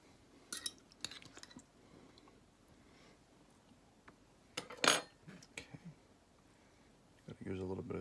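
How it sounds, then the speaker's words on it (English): A fork clinks and scrapes among jalapenos being arranged on a stuffed keto burger, in scattered light taps with one louder clatter midway, and a voice talks briefly near the end. "I'm going to use a fork here, some jalapenos"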